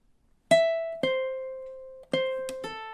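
A ukulele plays measure 22 of a song: about four clear plucked notes and chords, each ringing out with a long sustain, heard alone and up close.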